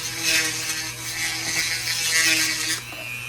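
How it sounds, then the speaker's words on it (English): Power drill running at near full speed boring a hole into a plastic toy boat, a steady whirring grind with rattling mechanical texture, close and continuous throughout. "just drill a hole"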